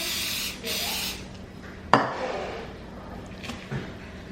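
A couple of short hissing bursts of cooking spray, separated by quiet, with a sharp clatter of a utensil in between.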